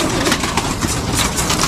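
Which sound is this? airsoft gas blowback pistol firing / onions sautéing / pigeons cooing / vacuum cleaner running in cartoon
pigeons cooing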